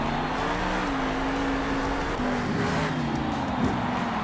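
Grave Digger monster truck engine revving steadily while doing donuts in a Monster Jam freestyle arena, a loud sustained roar with a droning tone that rises and wavers.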